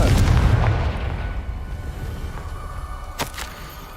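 The Confringo blasting spell in Hogwarts Legacy goes off as a heavy booming explosion up front, its rumble decaying over a few seconds, followed by a couple of sharp faint clicks.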